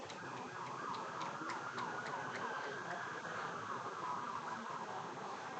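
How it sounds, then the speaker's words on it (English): A fire truck siren wails in the distance, its rising and falling tone steady over a busy background of crowd noise and faint voices at a night baseball game. "There's some sort of fire truck coming by."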